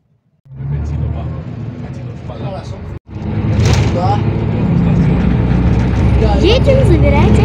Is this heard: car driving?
yes